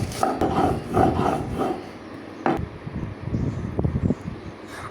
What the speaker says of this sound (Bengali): ভালো করে পেঁয়াজ আর রসুন বেটে নিচ্ছে